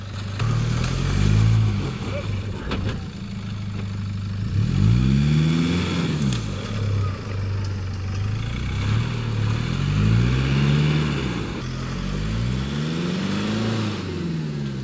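A recovery vehicle on an adventure motorcycle trail ride strains beneath an obstacle, its mid-pitched engine revving up and down in repeated swells, loud and close, with people talking over it.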